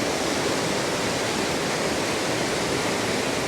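The river at the Falls of Clyde in Scotland rushes as a loud, continuous, even roar of fast water filling the whole scene, with no other sounds standing out.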